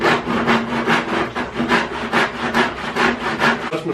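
A hand saw cuts through a wooden leg held in a miter box, giving steady rhythmic rasping strokes, about two per second, loud and close with no talking.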